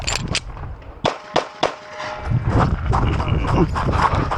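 Pistol gunshots at an IDPA shooting match fired outdoors, with several sharp, evenly spaced reports followed by a rapid string of shots amid background noise and talk.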